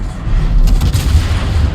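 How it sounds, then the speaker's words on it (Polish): Heavy cannon blasts from a Salem cruiser's guns in the video game World of Warships boom one after another in quick succession, merging into a loud, continuous low rumble of repeated salvos. "Jest strzał za strzałem, zobaczcie. Salwa za salwą."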